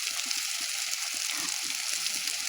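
Chopped carrots dropped into a hot oiled pan fry with a continuous close hiss and crackle, alongside soft low bumps from the pan.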